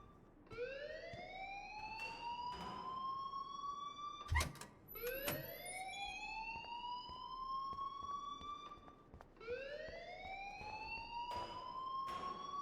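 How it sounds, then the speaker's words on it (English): An alarm in the video game Life Is Strange, a faint, repeating rising wail that sweeps upward in three long cycles, broken by a sharp clunk partway through. "please turn off that alarm since that's your job"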